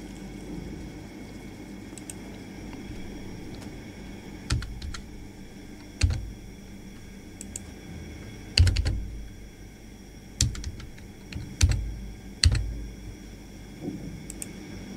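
Typing on a laptop keyboard while writing a program, clusters of quick key clicks with short pauses between bursts, close and clear with no talking.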